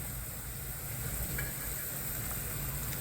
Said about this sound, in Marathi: आता आपण त्याच्यामध्ये टमाटे टाकून घेऊ आणि शिमला मिरची